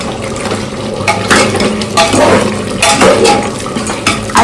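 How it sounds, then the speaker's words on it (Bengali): Mutton being sautéed in a pot produces repeated metallic clatter and scraping of a spoon against the pot, with wet stirring sounds in a busy home kitchen, fairly loud and close. "মাংস কষছি, মটন কষা হচ্ছে।"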